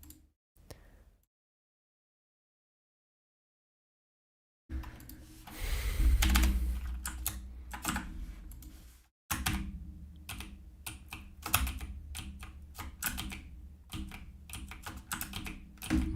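Keys on a computer keyboard click in quick, irregular bursts of typing after a few seconds of near silence, with a brief pause partway through before the tapping resumes.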